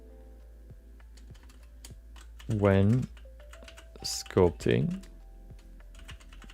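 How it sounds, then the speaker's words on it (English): Fast typing on a computer keyboard, a steady patter of key clicks running throughout, with a voice talking over it in short bursts. "You can see I'm a typing expert."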